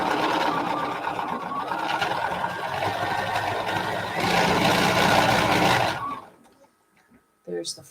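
A sewing machine topstitches a fabric face mask, running steadily and close for about six seconds with a slight speed-up midway, then stops. A short burst of another sound follows near the end.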